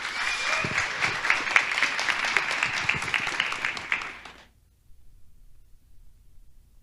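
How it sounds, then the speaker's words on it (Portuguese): An audience at a talk on brands breaks into steady applause to welcome the speaker. The clapping is dense and continuous, with a few cheers, and stops abruptly after about four seconds, leaving quiet room tone. "Salva de palmas para o Ian."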